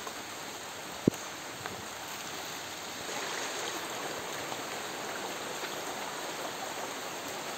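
Steady rain falling outdoors near rice fields, a dense, continuous hiss of drops at moderate level with one brief sharp knock early on and no voices.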